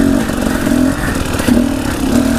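An enduro motorcycle's engine drones loud and close while riding off-road, its pitch rising and falling with throttle changes under a constant rough rumble.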